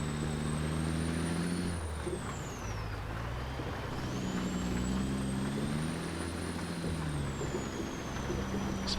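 A Freightliner truck drives on an Alaska ice road in American Truck Simulator, its engine droning steadily at close range as it shifts through gears, with the pitch dropping and rising again under a constant background rush.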